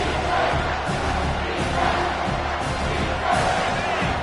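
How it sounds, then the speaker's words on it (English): A dense, roaring stadium crowd cheers continuously in an NCAA 25 college football video game, loud and sustained with swells of excitement and faint commentary underneath. "this crowd is bringing down the house"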